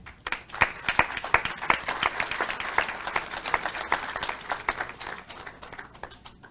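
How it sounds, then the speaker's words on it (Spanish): Audience applause at a forum on child and adolescent sexual violence, scattered individual claps rising into steady clapping from a moderate-sized crowd, loud and continuous across the clip. "Vamos a darle un aplauso."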